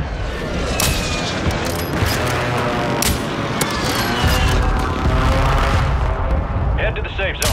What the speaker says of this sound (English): Friendly mortar strike on the bay.